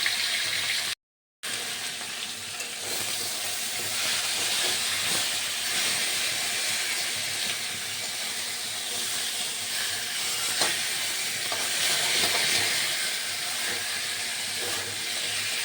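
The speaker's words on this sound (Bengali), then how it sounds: "মাছটা ভেজে ভালো করে" Steady loud sizzling hiss of catla fish frying in hot oil, continuous throughout with a brief dropout near the start.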